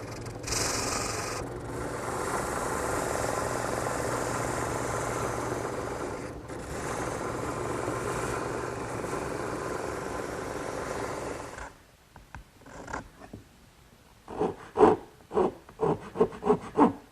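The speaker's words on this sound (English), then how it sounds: "Now it's just a matter of taking a rasp and fine-tuning each piece until it fits snugly in the mortise." A hand rasp filing wooden ladderback chair slats to fit mortises makes continuous close, steady scraping strokes for about twelve seconds. Then comes a short pause and a run of sharper, separate rasping strokes, with no talking.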